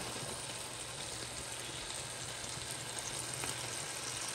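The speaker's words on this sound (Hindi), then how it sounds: "बढ़िया मैं फ्राई भी कर रही हूँ।" Chicken kebabs made from raw minced meat frying in a pan, giving a steady, even sizzle that holds at a low level with no voices over it.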